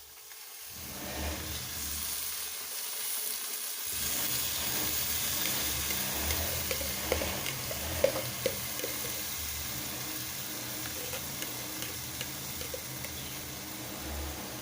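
Fresh fenugreek leaves go into potatoes frying in a pan. A loud, steady sizzling hiss swells right after the greens are added and keeps going, with small crackles and pops scattered through it, close up and with no talking.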